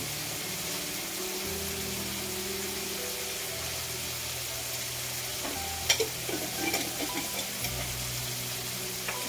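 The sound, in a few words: stirring macaroni pasta in a pan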